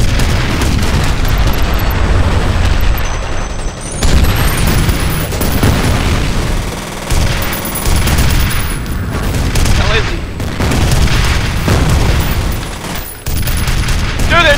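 Video-game combat with a grenade exploding amid repeated gunfire, booms and bursts of shooting, loud and dense throughout, with a brief voice in the mix.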